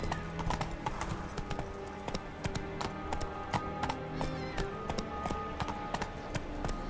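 Geralt's horse Roach gallops in The Witcher 3, a rapid rhythmic clatter of hooves continuing throughout, layered over a quiet game soundscape with low tonal music.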